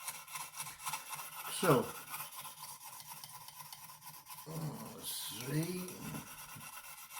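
Knife edge stroked across a Lansky stone while working up a burr, a few short rasping scrapes, one firm stroke then a couple of lighter ones, quiet and close, with someone talking briefly between them.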